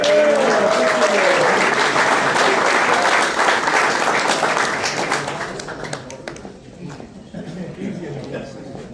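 A banquet crowd at a sports league awards night applauds the first-place winner with a full, steady wash of clapping that tapers off toward the end, while voices talk over it.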